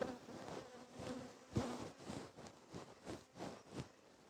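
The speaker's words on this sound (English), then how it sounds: "once I've done this, I'll bang the bees in there" Honeybees buzz around an open hive during queen marking, a close, continuous insect drone that swells and dips in pulses, with no talk.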